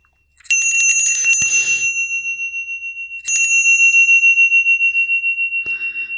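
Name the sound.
ringing bell with long sustain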